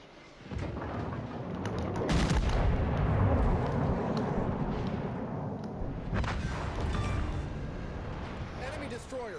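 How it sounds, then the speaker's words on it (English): Naval guns in a video game fire on an enemy destroyer, with deep booming blasts and rumbling explosions rolling continuously under a dense, roaring battle din. "Concentrate fire on the enemy warship. Shoot the destroyer"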